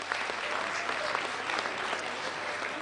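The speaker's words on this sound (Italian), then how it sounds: "un applauso" Theatre audience applauding steadily and loudly, a dense wash of clapping from a crowd that holds even throughout.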